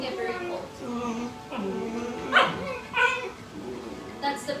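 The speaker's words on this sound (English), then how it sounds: "That's the puppies playing over here on the side." Puppies playing nearby give off a string of yips, short barks and whimpers, fairly close and moderately loud, with a voice speaking between them.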